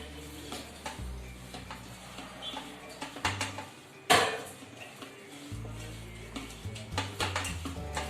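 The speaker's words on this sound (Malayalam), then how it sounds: "ഓക്കെ, നമുക്കിനി നല്ലോണം മിക്സ് ചെയ്തെടുക്കാം." A prawn and raw mango curry mixture with coconut oil is stirred by hand in a Kerala kitchen, with close utensil scrapes and clinks against the pot, a few louder knocks, and a faint sizzle underneath.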